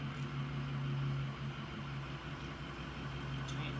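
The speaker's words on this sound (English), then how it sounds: "giant truck outside." A giant truck's engine rumbles and idles outside, a low steady drone heard faintly and at a distance, indoors behind closed walls, with no speech.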